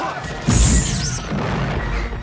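A sudden loud crash-like burst, a Molotov cocktail exploding in a film, with a heavy low thump and bright hiss, fading into a rumbling tail.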